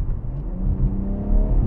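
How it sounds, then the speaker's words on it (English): A 2021 BMW X4M engine roars at full throttle, a dense steady low drone that swells slightly as the vehicle accelerates. "The engine, of course, let's floor it."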